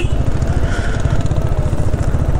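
A Royal Enfield Classic motorcycle engine thumps along loudly in gear on a hill road, its fast, rough pulsing beat straining under load with wind noise over it.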